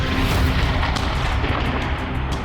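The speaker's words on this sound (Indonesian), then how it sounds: "Rekaman di lapangan menunjukkan ledakan dahsyat yang disertai kepulan asap tebal" Explosions from Israeli airstrikes on Beirut come as a heavy, continuous low rumble with booming energy and scattered sharper bursts on top, loud and sustained through the short stretch.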